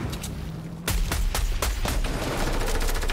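A new sniper rifle fires in a video game, giving a rapid volley of sharp, loud cracks over steady background game noise, with short gaps between shots.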